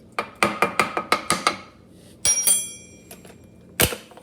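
A stovetop espresso maker for Cuban cafecito is screwed back together, with a run of quick close metallic clicks and scrapes, then a few louder separate clanks and a final sharp knock.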